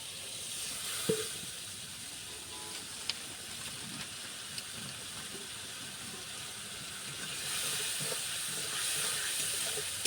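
Spices frying in a pan with a little water added, producing a faint, continuous hissing sizzle with a brief clatter near the start and a rise in intensity toward the end; no voices.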